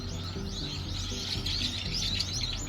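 A thick chorus of bird chirps and tweets pours from a tree in a Seoul park, constant overlapping calls with steady low city rumble underneath and no voices.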